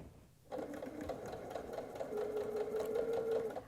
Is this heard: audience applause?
no